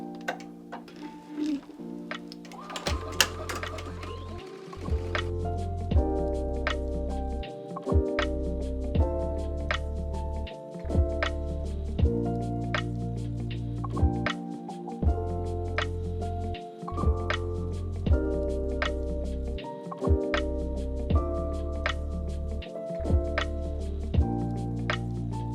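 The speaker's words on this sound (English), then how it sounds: "the laser is a perfect guide to show you exactly where the machine is going to stitch" A SAI Tajima embroidery machine stitching a design onto a hoodie produces a steady, rhythmic mechanical ticking and thumping throughout, with a continuous motor hum and brief periodic pauses between runs.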